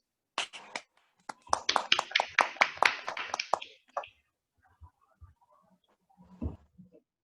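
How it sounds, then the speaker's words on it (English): A small audience at an online Toastmasters meeting gives a brief burst of scattered clapping, close and uneven, that fades to a few stray claps. "Let's give John a round of applause."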